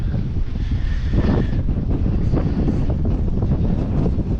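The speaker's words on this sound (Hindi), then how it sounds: "देख रहे कितनी तेज़ हवा चल रही है यहाँ पे।" Strong wind on the Harishchandragad trek buffets the microphone in a constant loud roar, with gusty rumbling throughout and no voices.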